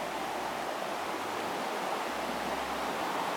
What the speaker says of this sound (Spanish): este es el río de San José,